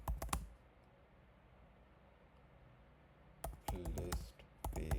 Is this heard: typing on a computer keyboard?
yes